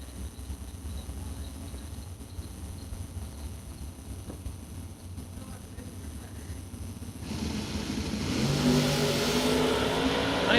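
Drag racing cars, including a Ford Pinto, launch at a drag strip; a low engine rumble builds into a louder high-revving roar toward the end, with a faint announcer voice in the background.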